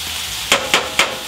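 Mushrooms and shallot sizzle in a pan as a steady, close hiss, broken by three evenly spaced knocks of the utensil stirring and turning them.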